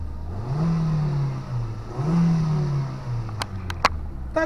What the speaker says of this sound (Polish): Dodajmy gazu.